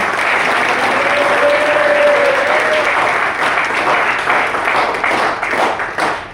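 Audience applause at a bank staff college cultural event in Lucknow, steady loud clapping from a sizable crowd filling the room throughout, tapering slightly toward the end.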